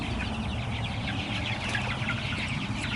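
Turkey poults in a warm brooder, a steady chorus of many chirps and peeps that carries on without a break, with no talk.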